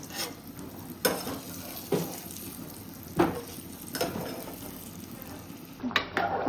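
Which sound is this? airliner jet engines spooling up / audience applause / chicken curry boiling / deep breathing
chicken curry boiling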